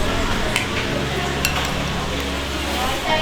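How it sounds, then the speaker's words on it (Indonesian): A spoon stirs spicy seblak in a pan with chili powder, a steady scraping, sizzling wash broken by a few light metallic clinks against the pan, fairly loud and close. "Oke, kita aduk lagi biar makin pedas."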